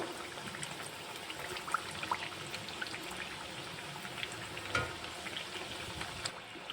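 Nippattu, crisp rice crackers, fry in hot oil while being turned, with a continuous fine bubbling crackle and a few small pops and scrapes close by.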